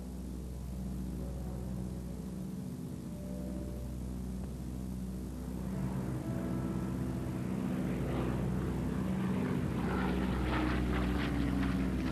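A propeller aircraft drones continuously, the engine hum building and growing louder and rougher toward the end as it passes closer, with no voices.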